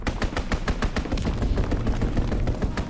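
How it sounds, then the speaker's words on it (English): Rapid, relentless machine-gun fire from a strafing run in Call of Duty: WWII, a dense burst of loud sharp shots in fast rhythm that keeps going without a break. "Strafing run inbound."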